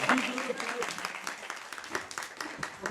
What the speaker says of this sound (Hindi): तो जोरदार ताली से स्वागत कीजिएगा